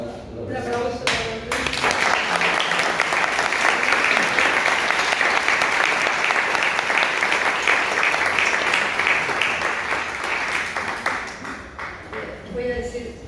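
An audience applauds at the close of a lecture on the sea in Canarian poetic tradition, a dense, steady round of clapping that swells quickly, holds for about ten seconds, then thins out.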